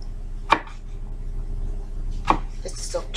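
Knife chopping eggplant on a cutting board while preparing Russian eggplant caviar: two distinct single chops about two seconds apart, followed by a few softer cuts, against a steady low kitchen hum.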